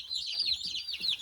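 Cornish and Red Ranger meat chicks peeping, a dense stream of high overlapping chirps close by with low background noise.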